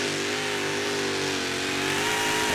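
Pulling tractor named Excalibur on a qualification run at the American Tours Festival, engine roaring at full power, a loud steady mechanical drone building slightly in intensity over a couple of seconds with no voices heard.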